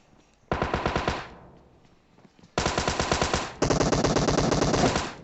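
Automatic weapon fire in the mobile game PUBG Mobile comes as three rapid bursts of evenly spaced shots, loud and close, with short pauses between them and the last burst running longest.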